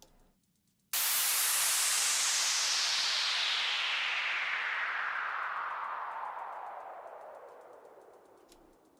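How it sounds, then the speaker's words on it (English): A white noise sweep from a Eurorack modular synth bursts in abruptly after a moment of near silence, a bright hiss gliding steadily downward and slowly fading over several seconds. "I already have a white noise sweep rigged up and ready to go"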